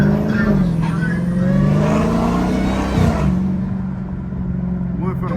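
A Dodge Hellcat engine rumbles steadily and revs under acceleration while driving through city traffic, a continuous loud growl from inside the car with a slight dip in pitch midway, and a person talking over it.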